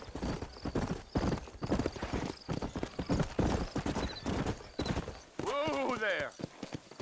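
Horses' hooves clip-clop at a steady walking rhythm in the western video game Red Dead Redemption while voices talk over them. Near the end a horse gives a clear whinny.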